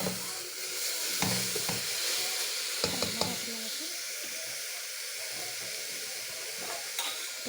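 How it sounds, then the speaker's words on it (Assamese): Carrot halwa with sugar is stirred in a pan, giving a soft continuous sizzle and hiss with scattered scraping taps of the spoon, fairly quiet and close, with a faint voice at times. "ইয়াত আপোনাৰ লাৰি দিব লাগিব, অলপ লৰাই দি"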